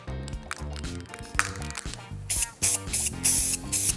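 Guide coat sprayed from an aerosol can onto the bodywork of a BMW M Coupe, heard as several sharp hissing bursts of about half a second each, close and loud, over a background of music.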